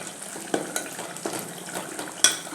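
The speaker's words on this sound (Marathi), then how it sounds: "आता हे व्यवस्थित थोडं मसाला भाजून घेऊया." Ground masala roasting in a pan while being stirred for Kolhapuri misal, a soft steady sizzle broken by a few sharp scrapes and clinks of a spoon against the pan.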